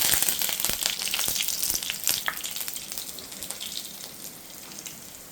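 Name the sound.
curry leaves frying in hot coconut oil with mustard seeds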